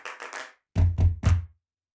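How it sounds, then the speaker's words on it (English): A cappella singers perform body percussion with foot stomps and chest claps: a few light slaps first, then three deep, heavy thuds in a steady rhythm. Close and dry, with no voices. "I had the singers doing the foot stomps and chest claps singing between their percussive parts"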